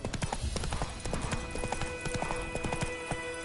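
Hooves of Roach, a horse in the video game The Witcher 3, clip-clopping in a brisk steady rhythm, close and prominent, with a faint low snort underneath.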